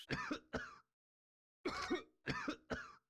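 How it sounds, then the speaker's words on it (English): Character coughing in the video game The Great Ace Attorney Chronicles: two coughs, a pause, then three more harsh, throaty coughs in quick succession, close and clear with no talk. "Okay, stop coughing, please."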